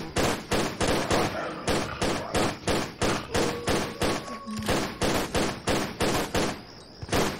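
Rapid gunfire in the Tomb Raider game as Lara Croft shoots at a ghost, a steady string of loud, punchy shots at an even rhythm across the whole stretch, with a faint tone in the background.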